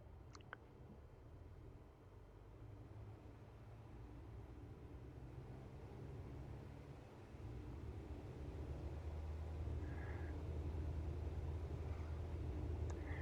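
Airplane engine in a flight simulator game building power on the takeoff roll, a low rumbling drone that swells steadily louder, with faint higher tonal chirps around the middle.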